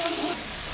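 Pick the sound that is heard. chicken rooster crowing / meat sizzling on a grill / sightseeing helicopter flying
meat sizzling on a grill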